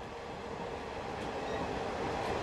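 An early-morning commuter train rolls steadily along the rails, a continuous dense rumble and rushing noise with faint metallic squeal, heard from inside or close by, without talk.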